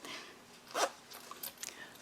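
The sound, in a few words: zipper pull clicking onto zipper tape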